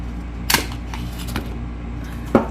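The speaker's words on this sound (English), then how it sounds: "Let me remove this pistol and the magazine." Beretta M9A4 pistol handled as its magazine is removed, giving a couple of sharp metallic clicks near the start and end with quieter handling in between, close up and alone.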